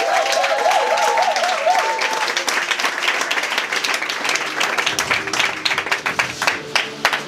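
A church congregation applauding to acclaim God at a worship gathering, with sustained loud clapping from a large crowd and a voice speaking over it at the start, the clapping growing more scattered toward the end.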